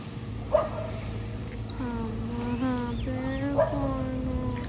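Several dogs bark and yip in a short burst, some whining notes between barks, at moderate distance with a steady background hum.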